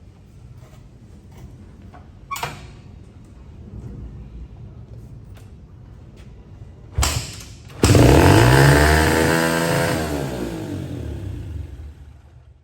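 A dirt bike that sat flooded for five years in Hurricane Harvey is kicked over a couple of times, then fires at about eight seconds and revs loudly and raggedly, its engine note rising and falling, with no talking.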